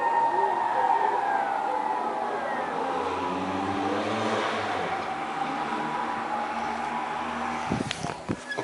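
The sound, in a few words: emergency vehicle sirens, ambulance and fire sirens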